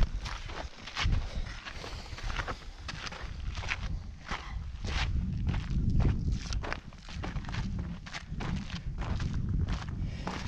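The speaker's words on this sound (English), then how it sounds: "It's got a really different sound when you walk on it." Footsteps crunching over lava rock outdoors near the Spiral Jetty in northwest Utah, a steady run of close, gritty steps with scraping and shuffling, fairly quiet and without talk.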